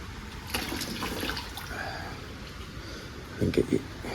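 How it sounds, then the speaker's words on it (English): Water tipped out of a container outdoors beside a rock-filled hole: a steady wash of splashing and pouring runs throughout, with a couple of sharper splashes near the end. "Let me just tip this water out, hang on."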